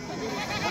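A goat bleats at a busy livestock market in Mungeli, Chhattisgarh, one short nasal cry standing out close against a dense wash of crowd noise.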